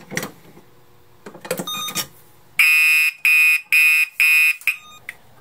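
A Radionics D7412G fire alarm system sounds during a pull station test, giving four loud, steady electronic tone bursts in a regular on-off pattern after some faint handling clicks and bumps.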